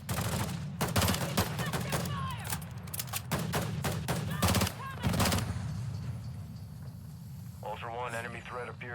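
Video game gunfire bursts out in rapid volleys of sharp shots, interrupted by short pauses and heavy thuds. A radio-style game voice speaks over the shooting before it thins out near the end.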